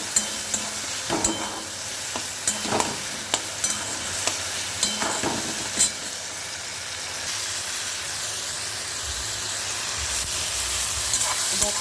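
An eggplant bharta mixture of tomato, onion and green chilli fries loudly in a pan, with steady sizzling and repeated scraping stirs from a utensil, no voices present.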